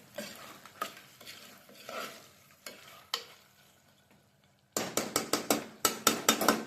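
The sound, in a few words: mixing biryani after squeezing in lemon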